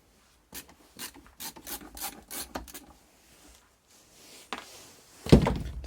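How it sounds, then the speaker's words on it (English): Screws being removed from the back of a broken Tennant T300 ec-H2O module, a close series of short rasping turns and scrapes in bursts, ending with a louder clunk. "we'll take these 4 screws at the back."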